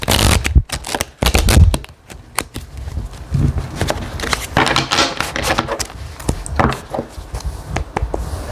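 A tarot card deck is shuffled by hand in a run of crisp riffling bursts and slaps, close and fairly loud, with brief pauses between rounds.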